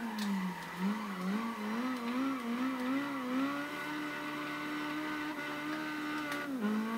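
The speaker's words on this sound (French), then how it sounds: "cette BMW M3, je la conseille vraiment pour le drift" A BMW M3 drifting, its engine note wavering up and down in a continuous, fairly loud whine with tire noise underneath, with no voices.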